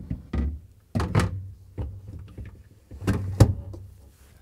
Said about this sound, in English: And let's put the shelves back in.